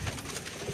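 Pigeons kept at a home loft coo softly in a short, faint, continuous murmur with a low throaty pulse at the start and end.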